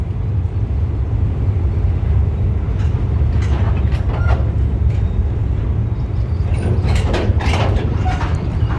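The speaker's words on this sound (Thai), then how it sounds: "สินค้าขบวนนี้นะครับก็เป็นรถเกลือนะครับผม" A heavy, continuous rumble of a freight train of salt wagons rolling past close by at Sung Noen Railway Station, Thailand, with metallic squeals and rattling clanks rising toward the end.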